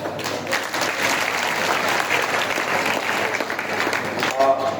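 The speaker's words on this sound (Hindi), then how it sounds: "वो सभी के लिए एक जोरदार तालियां" A student audience at an anti-drug awareness event in Raisen gives a sustained, hearty burst of applause for drama performers, with crowd voices faintly underneath throughout.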